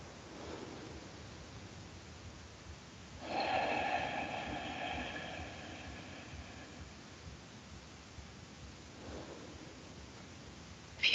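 Deep breathing during a guided meditation: one long, audible breathy inhale or exhale near the start, then quieter steady breath noise and a faint second breath later, close and soft with no talking.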